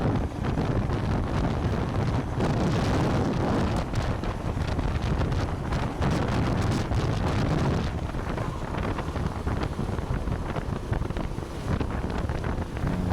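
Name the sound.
wind at a karting race track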